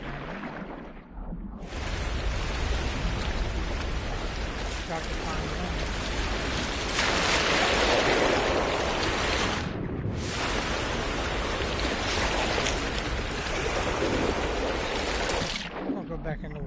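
A rainstorm with thunder in the game No Man's Sky fills the scene with a dense, loud, steady hiss of rain and a low rumbling undertone, briefly dipping twice, while a voice speaks briefly.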